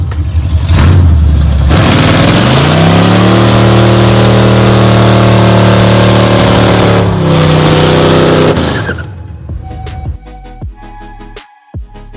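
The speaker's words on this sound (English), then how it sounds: "you didn't think we'd honestly let you go without burning the tires off this thing, did you?" A big block pickup truck roars through a tire burnout, loud and close, engine notes holding high for several seconds with a brief dip, then cutting off to quieter clanks and rattles.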